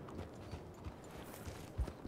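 A small horse's hooves clip-clopping at a walk in Red Dead Redemption 2, a steady series of soft, moderately close thuds over faint background ambience.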